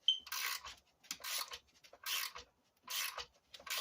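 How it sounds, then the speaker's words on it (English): A ratchet tightening catalytic converter heat shield studs on a 2008-10 Honda Accord makes four or five separate bursts of rapid clicking and rasping, close and fairly quiet, with short gaps between strokes and no talking. "I'm going to use a ratchet, and I'm going to tighten it"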